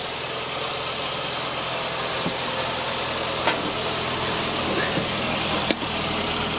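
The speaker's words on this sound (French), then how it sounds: "le moteur il tourne" A Toyota Corolla engine idles steadily after an oil change and spark plug replacement, a continuous even hum close by with a couple of brief clicks and no talk.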